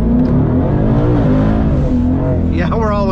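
A twin-turbo Ford Mustang GT accelerates hard with a loud, close engine roar whose pitch climbs and sweeps through the clip, and a brief higher whine toward the end.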